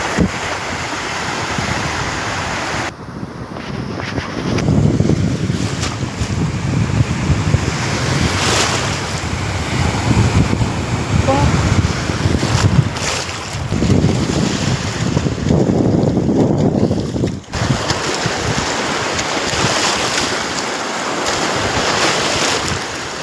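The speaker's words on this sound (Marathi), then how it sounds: "हे बघा छानपैकी कसं लाटा येत आहेत" Sea waves roll in at Bhogwe beach, a steady broad surf wash with breaking swells rising and falling, mixed with gusts of wind buffeting the microphone; no voices.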